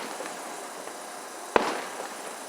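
A single firework bursts with one sharp crack that hangs and fades over a steady hiss of distant crowd and night ambience.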